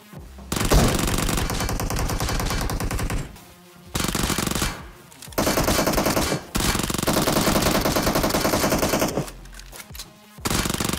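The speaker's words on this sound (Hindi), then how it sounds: "फायरिंग की साउंड आ रही थी मेरे को सामने से" Automatic-weapon fire in the mobile battle royale game BGMI (Battlegrounds Mobile India). Loud, dense bursts of rapid gunshots run continuously, with brief gaps between volleys and no talk over them.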